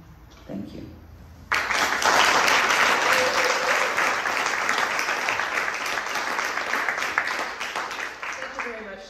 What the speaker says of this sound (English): Let's have one more warm round of applause for George Anderson and Leah Versa